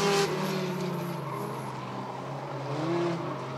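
Race cars in a Bandits figure-8 feature at Rockford Speedway, including a Dodge Neon, roar steadily through the crossover, engines droning loud and continuous with a brief surge near the start.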